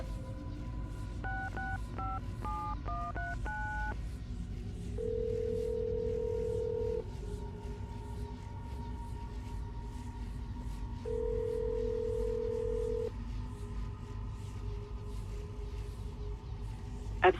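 A phone keypad in Assassin's Creed Brotherhood beeps through a quick run of dial tones, then two long, steady ringback tones sound several seconds apart over a low background hum.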